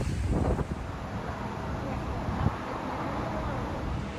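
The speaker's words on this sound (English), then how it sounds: "It's a little bit windy out here too" Steady broadband wind rumble buffets the microphone outdoors in Las Vegas throughout, loud and constant, with a couple of brief gusty bumps.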